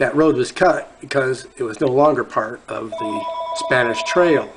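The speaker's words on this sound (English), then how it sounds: "Sorry about that phone." A telephone rings in a room with a repeating electronic bell tone, heard faintly beneath a man's continuous speech for the last part of the clip.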